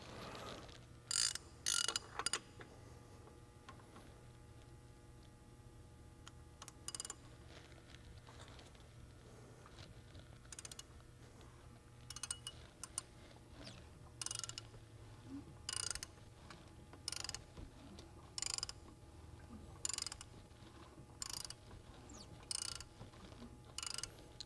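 A crank socket fitted over the crankshaft snout bars an engine over by hand during pushrod measuring, giving bursts of quiet ratcheting clicks separated by pauses. The clicks repeat in short groups against a faint background hum.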